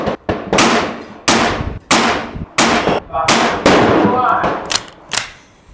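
A PA30 airgun, nicknamed the Mini Megalodon, fires Predator Polymags pellets at a target, with about seven sharp cracks spaced under a second apart, each trailing a short decay, close and loud.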